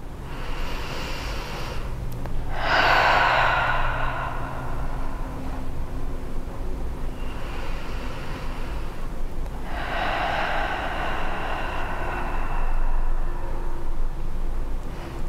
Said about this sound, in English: let's take a deep breath in through the nose, out through the mouth